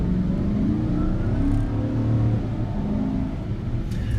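A GMC Sierra pickup's 5.3 liter V8, paired with a 6-speed automatic, revs up into a loud, steady, throaty rumble that holds for several seconds, with no talking.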